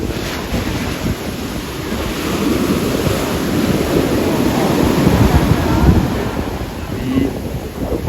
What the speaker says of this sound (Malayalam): ഈ ഭയങ്കര ഇതാവുന്നു കാറ്റുള്ള കാരണേ നല്ല തിര തിര കൊണ്ടുപോകുന്നുണ്ടായിരുന്നു